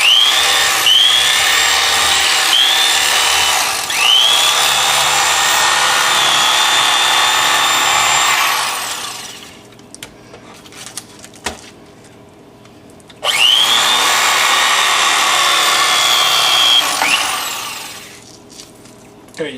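A Mr. Twister electric fillet knife buzzes loudly through a fish in two long bursts separated by a quieter pause with small clicks and handling noises, close up and without talk.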